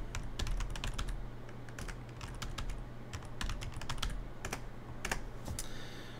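Computer keyboard keys clack in steady, irregular bursts of close typing while a password is entered, with a low constant hum underneath and no talking.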